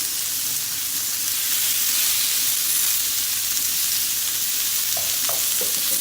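Chicken kebab skewers sizzle in a hot pan, a steady loud frying hiss close by with a few faint clinks toward the end.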